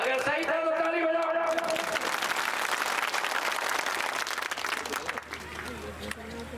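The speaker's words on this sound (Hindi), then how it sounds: "अगर सही था तो ताली बजाओ।" A crowd at an election rally in Pota, Shivpuri, bursts into applause right after a sustained shout from the stage. The clapping is dense and fairly loud at first and thins toward the end, with some voices underneath.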